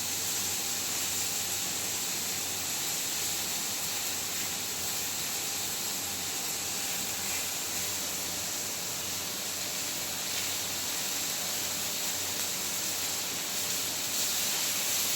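Fish frying on a non-stick tawa with coconut oil added, giving a steady, even sizzling hiss that stays constant throughout with no talking over it.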